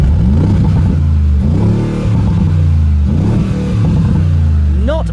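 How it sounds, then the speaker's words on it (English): A 2019 Mercedes-AMG G63's engine is revved repeatedly through its side exit exhaust, with three loud, deep throttle blips rising and falling close by in a steady rhythm. "right here are the side exit exhaust pipes"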